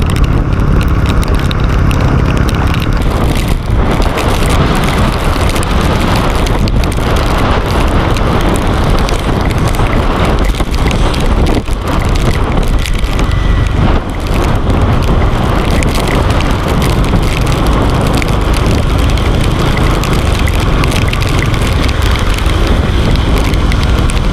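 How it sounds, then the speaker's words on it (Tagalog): Dense, roaring wash of heavy rain at Kilometer 107 near Infanta, Quezon, loud and unbroken throughout, with a steady low rumble underneath like a vehicle moving through the downpour. "lalo lumakas yung ulan."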